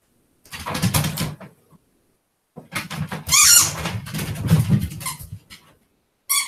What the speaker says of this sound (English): With your squeaky toys.